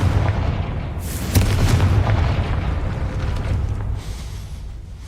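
Hogwarts Legacy Confringo spell explosion: a sharp blast at about one second, a heavier booming impact just after, then rumbling bursts that fade out, with no talk over them.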